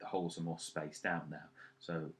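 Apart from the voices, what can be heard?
No everyday noise stands out behind the speech.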